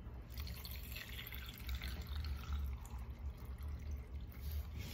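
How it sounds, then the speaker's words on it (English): Warm water poured into soaked beans in a blender for moin moin, a steady close splashing trickle that runs continuously and fairly quietly, with no talk over it. "So I'm adding some warm water."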